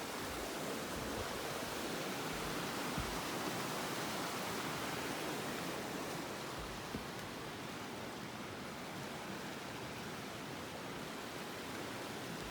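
A clear mountain river near McBride campground by Mt. Assiniboine, with steady broadband rushing water that stays constant throughout and has no breaks.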